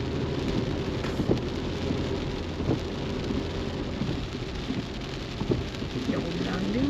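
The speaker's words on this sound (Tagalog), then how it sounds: "Yung ulan din." Steady heavy rain falls in a barangay neighbourhood, a dense continuous hiss across the whole stretch with a few louder drips and patters standing out against the wash.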